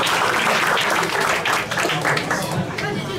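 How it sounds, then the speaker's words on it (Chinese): A crowd applauds loudly at an indie band's live concert, thick continuous clapping filling the space up close, with some voices and chatter mixed in beneath. "给自己一个掌声鼓励吧"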